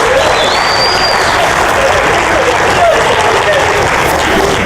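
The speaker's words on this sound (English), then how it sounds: "Give that man a round of applause" Loud, sustained applause and crowd noise from an audience at a motivational talk, a thick wash of clapping that holds steady throughout with some voices mixed in.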